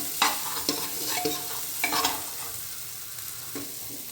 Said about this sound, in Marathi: आलं लसूण खोबऱ्याचं वा वाटण आहे ते घालायचं आहे आणि हे आपण व्यवस्थित परतून घ्यायचं आहे